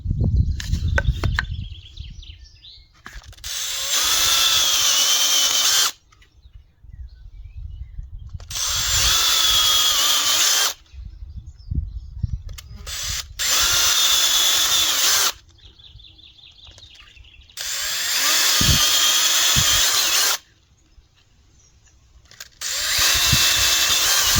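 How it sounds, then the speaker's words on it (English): A power drill whirs in several long bursts, each run of a few seconds separated by short pauses, close and loud, boring holes into a wooden branch for a flute. "So I'm just going to drill them out."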